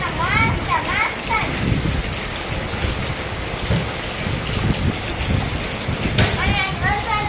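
Rain falls outdoors as a steady hiss beneath people talking and chattering nearby, the voices rising above it at times.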